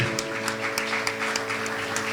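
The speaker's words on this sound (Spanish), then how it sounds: "dale un fuerte aplauso al Señor" Church congregation clapping during a Spanish-language worship service, steady applause over sustained organ or keyboard chords, moderately loud and continuous throughout.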